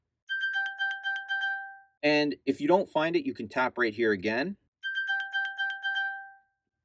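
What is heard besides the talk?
iPhone chime pinged from Apple Watch Series 9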